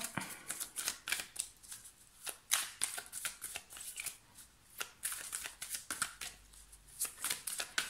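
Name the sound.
shuffling tarot cards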